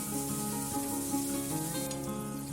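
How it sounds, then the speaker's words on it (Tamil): A large onion cut into long slices sautés in a pan for coconut milk biryani, giving a steady, close sizzle under soft background music. "இப்போ இதுல ஒரு பெரிய வெங்காயம் நீளமா கட் பண்ணி வச்சிருக்கேன், அதையும் சேர்த்து வதக்கிக்கலாம்."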